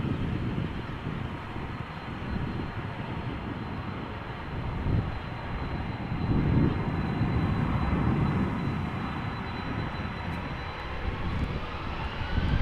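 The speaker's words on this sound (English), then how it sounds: "This is KLM flight 1541, Embraer 190 going to Leeds." A KLM Embraer 190 jet at Amsterdam Schiphol Airport gives a steady, loud engine roar that swells slightly midway, with some wind noise on the microphone and no talk.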